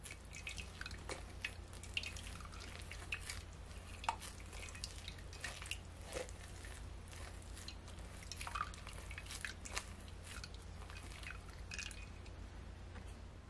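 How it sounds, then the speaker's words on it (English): Beetroot juice drips steadily through a strainer, a quiet, continuous wet patter of scattered drops and thin trickles over a low background hum. "I'm gonna strain it at least 3 times because I want it to be very smooth."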